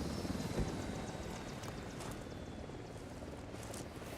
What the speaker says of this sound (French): Hélico de l'unidad en approche, planquez-vous.